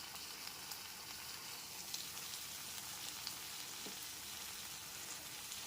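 Masala with cashew paste fries in a pan over a low flame, giving a faint, even sizzle with soft crackles and occasional stirring scrapes, no voices.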